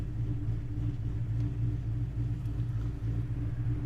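A 700hp manual Ford Mustang's engine idles with a steady low rumble as the clutch is eased out on a road, a close, even drone with no other sounds.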